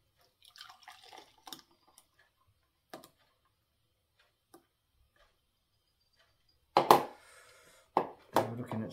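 Fresh pineapple juice drips from a tilted container into a measuring cup. Sparse, faint drips and small taps come first, followed by a few louder splashing drips near the end.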